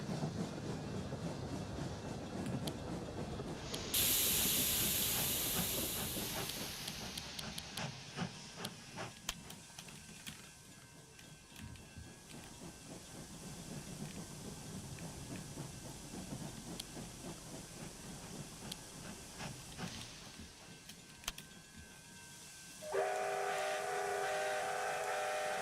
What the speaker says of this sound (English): Oh, I can see the train. It's in town.